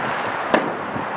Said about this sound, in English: Oh, more fireworks.